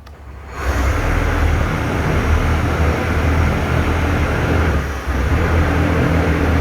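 Pratt & Whitney R-2800 radial aircraft engine on a test run, catching after a brief quiet start and settling into a loud, steady, rough roar, close by, with a short dip in level near the end.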